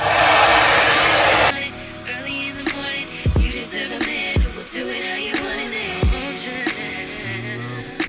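A hair dryer on its high setting blows a loud, steady broadband roar for about a second and a half during a natural-hair wig styling, then shuts off. Quieter clicks and handling sounds follow.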